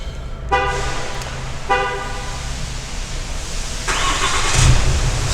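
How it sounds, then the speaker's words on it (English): Two short horn chirps, then a 2019 Ram 2500 Big Horn diesel pickup's engine turns over by remote start and settles into a quiet, steady idle nearby. "Starts right up. It is really quiet for a diesel"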